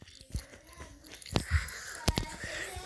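Minecraft character eating food, several sharp bite and crunch bursts spaced through a few seconds of game sounds, with a voice heard in the background.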